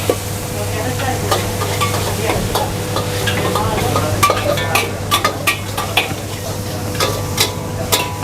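Stirring Bangkok sauce with sugar and MSG in a pan, a spoon scraping and clinking steadily against the metal over a continuous low sizzle and a constant kitchen hum, with no talking.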